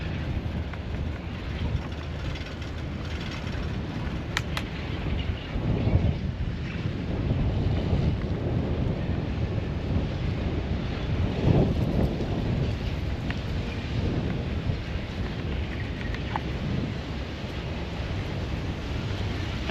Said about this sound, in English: super windy here, and I think I'm riding into it.